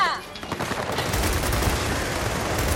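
Rapid bursts of gunfire in the video game Gears of War 4, a dense, continuous fusillade, loud and close, with voices mixed under the shooting.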